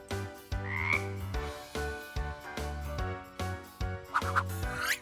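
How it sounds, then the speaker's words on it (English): A frog croaks in a rapid series of deep, buzzing, rhythmic pulses, repeated about eight times, close and clear with no talking over it. "F is for frog."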